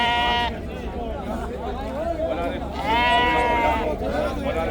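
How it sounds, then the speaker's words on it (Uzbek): Sheep bleat loudly and repeatedly at a busy livestock market in Samarkand, wavering cries overlapping near the listener, with crowd chatter and voices mixed in throughout. "bugun qo'ylar juda ko'p kelgan"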